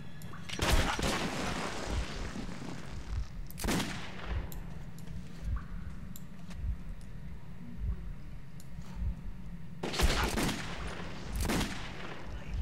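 Gunfire in the post-apocalyptic shooter Metro 2033, sharp bursts of shots separated by quieter gaps: a burst near the start, another around the middle, and a couple more toward the end, over a low ambient rumble.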